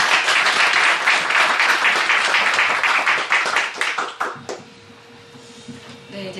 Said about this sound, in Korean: 어떻게 간증하는지 우리 격려로 박수로 격려할 때